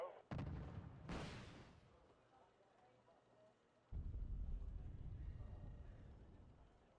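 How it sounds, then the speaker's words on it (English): Artillery in a Wargame: Red Dragon battle booms faintly in the distance, a couple of sharp cracks early followed by rumbling impacts and a renewed heavy roar near the end. "Is that artillery?"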